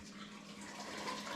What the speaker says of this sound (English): First we drain off as much water or broth as we can in that manner.